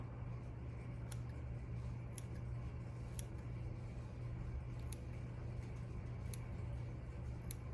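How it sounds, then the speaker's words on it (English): Curved embroidery scissors trimming fur from a mink coat, snipping in a slow, regular rhythm, roughly one cut per second, over a steady low hum. "I'm gonna use my curved embroidery scissors"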